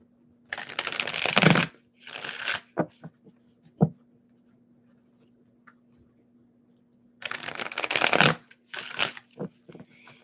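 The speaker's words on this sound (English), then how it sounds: "One more shuffle. I'm gonna do 2 more shuffles for you" Tarot cards being shuffled close by in two quick riffling bursts, with a few soft taps and clicks in the quiet pause between them.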